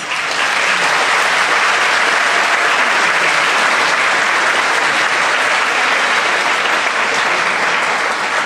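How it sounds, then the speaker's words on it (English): A large crowd at a middle school graduation ceremony claps steadily and loudly, sustained applause from start to finish without a break. "give a round of applause to your parents"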